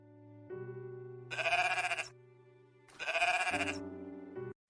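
Two loud, drawn-out sheep bleats, each about a second long, sound close by over a steady low musical hum, with a quiet pause between them.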